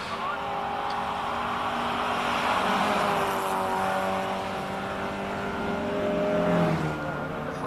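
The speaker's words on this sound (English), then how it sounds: "There we go, one of the Fiat 131 Abarth rally." A Fiat 131 Abarth rally car climbs the course at the Simola hill climb, its engine revving hard through rising and falling gears as it passes, steady and moderately near, with crowd ambience underneath.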